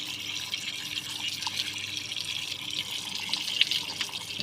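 Water runs steadily to soak a thick, sack-like cloth, a continuous close splashing hiss of a tap or pour with no voices.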